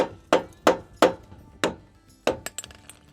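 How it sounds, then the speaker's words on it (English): A rubber hammer strikes the hub cap on a boat trailer wheel hub, several sharp, close knocks in an uneven rhythm followed by a couple of lighter taps and a faint clink. "the easiest way is to hit it with some sort of hammer"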